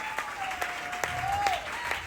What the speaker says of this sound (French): Acclamons pour ce Jésus.